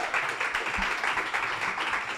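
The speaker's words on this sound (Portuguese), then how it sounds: "Quero receber com uma forte salva de palmas o nosso próximo convidado." Dense, loud audience applause at a stand-up comedy club, steady crowd clapping filling the whole short stretch with no voices over it.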